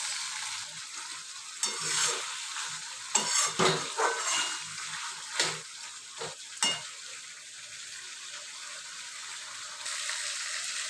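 Mutton being sautéed in oil, a bright hissing sizzle punctuated by several scraping stirs of a spatula in the pan, close and fairly loud, with no speech.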